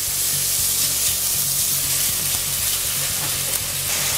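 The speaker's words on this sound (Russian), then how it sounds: "Буду сильно лук сейчас выжаривать, чисто так, до прозрачности." Onion, pork fat and minced beef fry loudly in a hot pan, a dense, continuous sizzle with occasional crackles and spatters.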